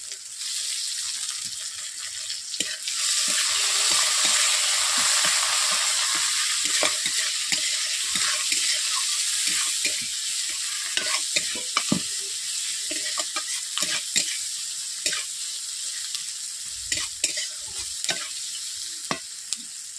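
Chopped onions and slit green chillies frying in oil with a little salt for a Bengali fish curry, a loud continuous sizzle with frequent scraping stirs and clicks of the spatula, no speech.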